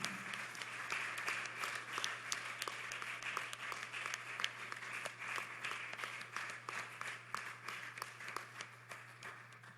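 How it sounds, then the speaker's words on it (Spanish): A church congregation claps together for about ten seconds, a steady crackle of many hands with a rhythmic pulse running through it, fairly close and even, with a low constant hum underneath and no talking. "Démosle un aplauso al Señor."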